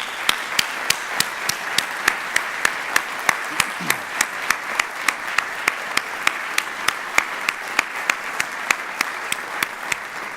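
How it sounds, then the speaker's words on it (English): A Butler University alumni awards audience applauds its honorees with steady, full clapping, and one close pair of hands cracks out sharp, evenly spaced claps above the crowd throughout. "Let's have one more round of applause for this inspiring group of honorees."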